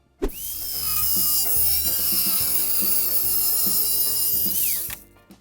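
A steel plate is cut in half with a power tool, a loud continuous grinding whine that holds steady for about five seconds, with rattling mechanical pulses underneath.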